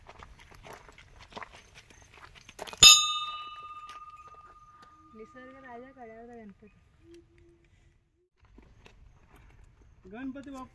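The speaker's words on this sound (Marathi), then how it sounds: "इथे घंटी आहे, निसर्ग राजा कड्यावरचा गणपती।" A single bright metallic strike of a temple bell at a cliffside Ganpati shrine on Peb Fort, ringing out sharply and decaying over a couple of seconds, followed later by voices talking.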